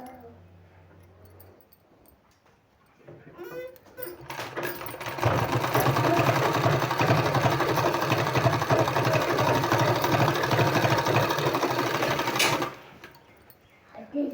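A sewing machine stitches a sleeve in one long, loud, steady run of rapid needle strokes, preceded by a short quiet stretch with faint handling sounds and ending abruptly.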